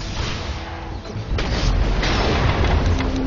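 A middle tower falling in a video game match, with sustained booming blasts and crashing rumble that grow louder about midway through, alongside a continuous noisy battle din.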